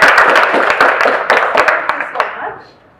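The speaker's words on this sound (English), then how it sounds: "Can we clap for them?" Audience clapping for the mothers at a nutrition gathering in Kisumu, Kenya, a loud close burst of many hands clapping that trails off into a few scattered claps within three seconds.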